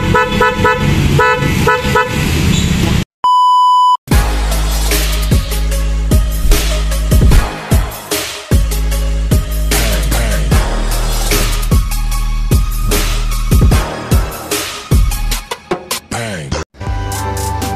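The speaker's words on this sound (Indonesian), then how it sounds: "untuk mobil Agya hitam ini ada pemasangan klakson Bose" A Bose car horn installed on a black Toyota Agya honks loudly several times amid other loud, busy sound, with one clean steady tone standing out briefly.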